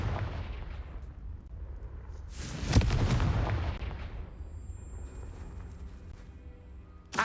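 A Confringo fire spell explodes in Hogwarts Legacy as a single loud booming blast partway through, over a constant low rumble of game ambience, with no voices.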